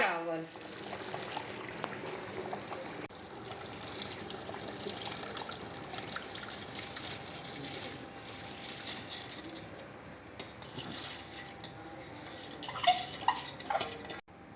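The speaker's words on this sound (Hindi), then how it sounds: "अब हम इसके अंदर डालते हैं चावल।" Rice is poured into boiling yakhni water for a beef pulao, giving a sustained watery pouring and bubbling sound with small splashes and occasional clinks, fairly close and continuous.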